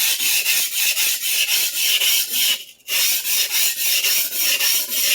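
A knife sharpening stone is flattened with quick, regular back-and-forth rasping strokes, loud and close, broken by one brief pause before the rhythm resumes.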